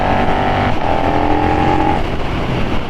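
2022 KTM Superduke R motorcycle with a baffle fitted in its Pipeworks exhaust can, a loud close engine drone with a steady tone that shifts pitch slightly midway while riding in open weather.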